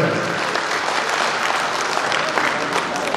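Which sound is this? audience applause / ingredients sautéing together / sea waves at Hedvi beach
audience applause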